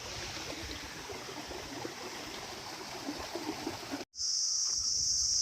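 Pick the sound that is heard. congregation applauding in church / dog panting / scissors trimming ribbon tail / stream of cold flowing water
stream of cold flowing water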